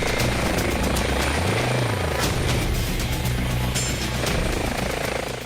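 An air ambulance helicopter near London's steady rotor thrum and engine whine fill the whole stretch, loud and continuous, with a low pitch that dips and rises briefly.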